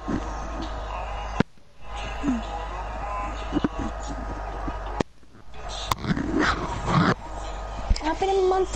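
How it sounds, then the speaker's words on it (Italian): A pet dog in the Fortnite video game gives short yips and whimpers mid-range, mixed with game sounds and clicks, while a person talks over much of it. "Io ero l'unico col cagnolino."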